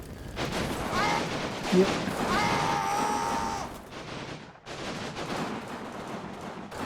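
Anti-tank gun and infantry rifle fire in the Combat Mission: Stalingrad war game, dense rattling bursts and booms around apartment blocks, with a brief spoken word over the battle noise.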